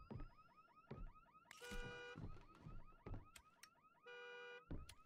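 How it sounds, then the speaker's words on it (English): Car horns and an alarm-like electronic tone sound inside the horror video game Visage, with repeated bright warbling honks and two sustained blaring horn chords standing out over low rumbling background noise. "Oh yeah, car's honking."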